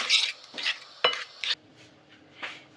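A honey and masala marinade is worked into raw chicken in a bowl, giving a few separate wet scraping and clinking strokes of a utensil against the dish, close and fairly quiet, with pauses between them.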